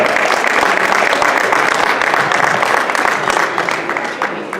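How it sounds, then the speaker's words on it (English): Audience applause at a masquerade ball gala fundraiser for dance sport education in the Imperial Ballroom: dense, steady clapping from a sizable crowd, loud and sustained before tapering slightly at the end. "Please give him a round of applause."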